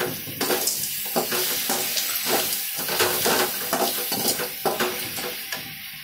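Pasta stirred through a little gravy in a pan: busy, close scraping and clinking of a spoon against the metal in quick repeated strokes over a soft simmering sizzle, with no speech.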